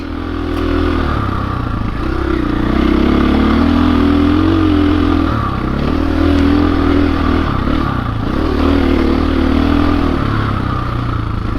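A 2021 KTM 500 EXC-F dirt bike ridden up a black-diamond trail, its engine droning loud and close throughout, with rising and falling revs and a steady clatter of the machine over rough ground.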